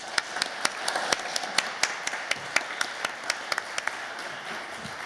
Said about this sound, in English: Please join me in a round of applause for the panelists.